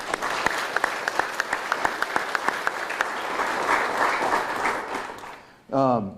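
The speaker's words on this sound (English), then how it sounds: "And let's give them a round of applause, please" An audience at a press event introducing a university athletic director applauds coaches, kids and administrators, with sharp individual claps over a growing round that tapers off before a voice comes in.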